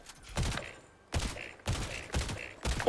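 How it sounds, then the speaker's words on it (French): A video game gun fired at a wall in four short bursts of rapid shots, evenly spaced and close, with nothing else between them. "je tire dans un mur pour voir s'il tire en rafale aussi"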